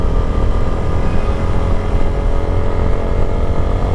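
A Yamaha Sniper 155 motorcycle engine drones steadily while riding, a loud continuous hum mixed with wind rush close to the rider, with no pauses.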